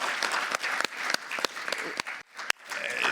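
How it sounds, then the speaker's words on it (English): A conference panel audience applauds with a steady wash of clapping, a few sharp individual claps cutting through near the front, briefly thinning before swelling again. "I think we need a round of applause."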